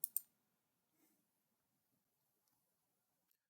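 Two quick, crisp mouse clicks land right at the start while saving and sending a form in energy-metering software, followed by near silence with a few faint ticks.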